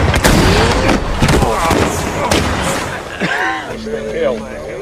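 Gunshots fired at targets in a cowboy film, loud booming cracks in a scattered sequence with echoing tails, mixed with a film soundtrack and voices.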